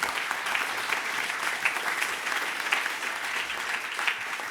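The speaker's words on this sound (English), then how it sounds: "Thank you for the applause" A film festival audience at a filmmaker talk in Munich applauds in a steady, dense wash of clapping from a full room, continuous and even for a few seconds.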